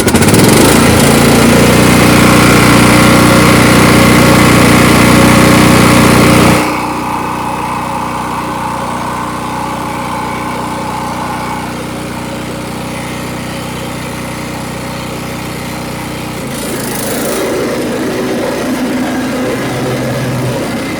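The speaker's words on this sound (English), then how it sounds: "So we'll go ahead and give it a little turn here." A Cub Cadet LT1045 lawn tractor engine with starting issues cranks and runs loudly and steadily, then drops to a quieter idle before revving back up near the end.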